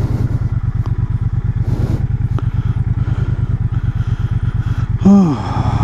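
A motorcycle rides through fields in Rajasthan, its engine chugging in a steady, loud, close rhythmic thump, with a brief rising whine near the end.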